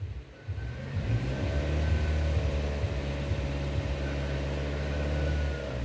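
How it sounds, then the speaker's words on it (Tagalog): A car with an automatic transmission, held in manual low gear, revving steadily toward 2,000 RPM as gas is applied without upshifting, a loud close engine drone that holds level for several seconds. "So apply ako ng gas."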